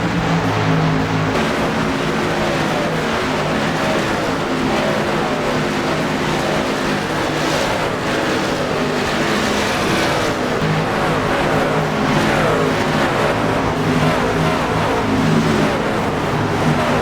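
Race cars accelerate at the green flag at Dover, a dense, steady roar of many engines that stays loud and close for the whole stretch with no talk over it.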